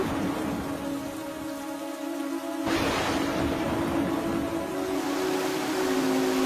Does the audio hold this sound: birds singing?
no